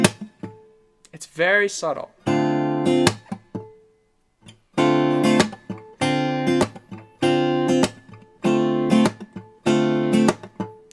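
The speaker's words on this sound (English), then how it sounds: "It's just a rhythmic thing that we're going to throw in to give it a little bit more of an interesting feel. It sounds like this." Rhythmic, percussive guitar strumming with the strings muted by the fretting hand: short chord chops repeat in a steady pattern with brief gaps, after a short spoken remark at the start.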